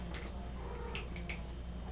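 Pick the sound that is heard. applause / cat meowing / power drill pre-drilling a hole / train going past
cat meowing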